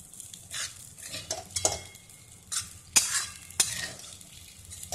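Kurdai bhaji being sautéed with masala in a pan, light bursts of sizzle with scraping spatula strokes and several sharp metallic clinks against the pan, close and fairly quiet.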